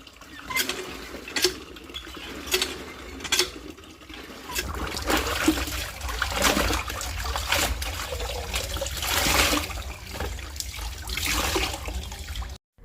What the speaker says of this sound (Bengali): প্রথমে সার্ফের জলে ভিজিয়ে নিয়েছি তারপরে হোগলা সাবান দিয়ে একটু ঘষে ঘষে ভালো করে কেচে নিচ্ছি